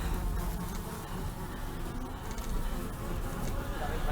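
Flies buzzing as an added effect for a film sequence with monkeys, a steady faint droning hum that stays even throughout with no other sounds standing out.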